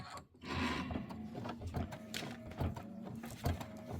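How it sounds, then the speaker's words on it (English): An embroidery machine stitching the fill of an acorn cap and leaf detail on a Kimberbell Thanksgiving pillow design, a fast steady mechanical chatter with a low hum, quiet and close, no voices. "stitch the acorn cap fill and leaf detail"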